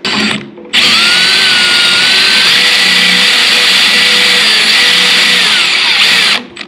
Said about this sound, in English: we're gonna have to drill these holes out